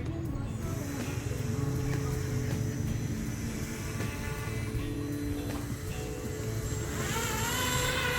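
Airboat with a front booster fan engaged, a continuous buzzing engine and propeller roar heard from on board, steady and fairly distant-sounding, with a voice talking over it near the end.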